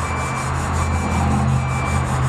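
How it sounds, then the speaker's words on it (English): A nylon web scrubby rubbed back and forth over a rusty metal vending machine rack, giving a steady close scratchy rubbing with faint rhythmic strokes and no talking. "This is nylon web scrubby, and that seems to work good. Just take it apart, go back and forth."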